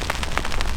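Rain sweeping in over a Hebridean landscape, a dense close hiss of drops pattering on surfaces in quick uneven bursts for under a second.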